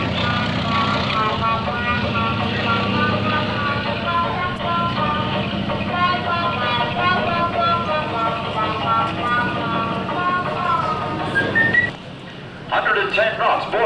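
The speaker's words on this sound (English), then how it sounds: "This, ladies and gentlemen, is the high-speed pass." An Antonov An-2 biplane makes a high-speed pass at an airshow, its engine drone steady and loud throughout while an announcer talks over it.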